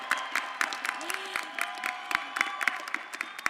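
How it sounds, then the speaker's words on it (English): A thinned graduation convocation crowd applauds and cheers, steady scattered clapping with occasional shouts and whistles, moderately distant in a large hall. "the crowd has thinned a bit, but the enthusiasm and noise certainly has not"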